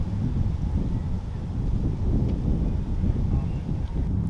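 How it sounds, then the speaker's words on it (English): Strong wind buffets the microphone on a disc golf course, a continuous low roaring rumble with gusty surges throughout, loud and close with no speech. "And the wind is ripping again, right to left."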